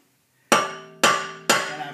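Three sharp metallic hammer strikes forcing a four-way lug wrench onto an overtightened lug nut, evenly spaced about half a second apart, each ringing briefly before the next blow.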